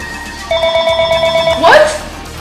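An old bell telephone rings loud and near in a steady trilling burst of about a second, and a voice cuts in over its end.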